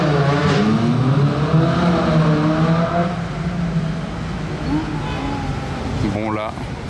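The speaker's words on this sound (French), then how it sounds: "Entendre une Challenge Stradale accélérée comme ça à Monaco en 2025" A Ferrari Challenge Stradale accelerates hard through Monaco, its engine rising in a loud rising howl of stacked harmonics before fading, with another engine whining briefly near the end.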